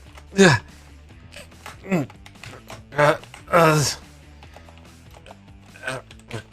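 Bursts of computer keyboard typing during a typing test, a few short clustered flurries of key clicks separated by quiet gaps, close and fairly soft.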